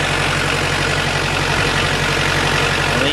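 A Bad Boy riding mower's engine idles just after starting, a loud, steady, close rumble with an even low throb and no other sounds.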